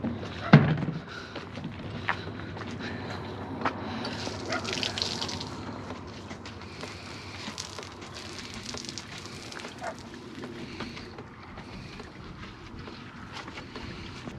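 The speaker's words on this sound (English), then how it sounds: "With the fuel up, you get a free RV wash" Water sprays over an RV at a fuel station wash bay, a continuous broad hiss and rush after a brief thump at the start, steady and fairly close for the whole stretch.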